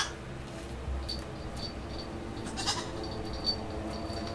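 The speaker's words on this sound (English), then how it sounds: "That's Corbet the goat" A goat bleats a few short times at moderate distance over quiet outdoor background, with no talking.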